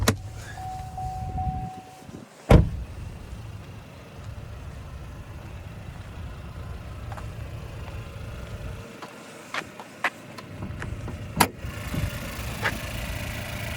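2022 GMC Terrain SLT with a 1.5-liter turbocharged four-cylinder idling under the open hood, a steady low rumble with a few sharp clicks and knocks scattered across it, no speech.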